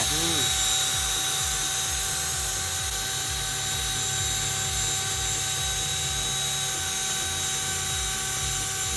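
A power polisher buffs a yellowed headlight on a Nissan Skyline R33 during a DIY restoration, giving a steady whirring drone with a rhythmic pulsing throughout, while people talk over it.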